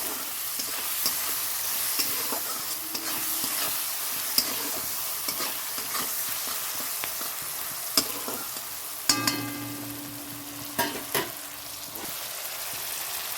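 Tomato and eggs fry in a pan, a steady sizzle broken by repeated scrapes and knocks of a utensil stirring, with a few sharper clanks near the end; no talking.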